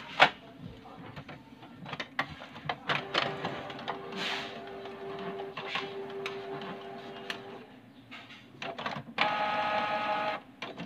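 A Canon inkjet printer, model 258 or 287, prints a nozzle check test page with rhythmic mechanical clicks, ticks and whirring carriage passes, close and fairly quiet, ending in a louder buzzing feed.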